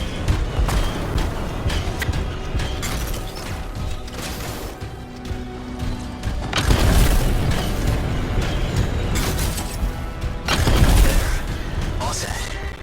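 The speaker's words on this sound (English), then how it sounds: "It'll be a contained explosion." A contained explosion goes off in the video game Anthem, with two heavy booming surges over dense, rumbling game noise.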